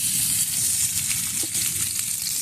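Onion frying in hot oil in a pan, a loud, close, continuous hiss and crackle of sizzling with no talking.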